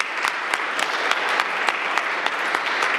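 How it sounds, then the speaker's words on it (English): Steady applause fills a city council meeting chamber, a brief, even patter of many hands that carries on throughout. "let's give her a round of applause if we could"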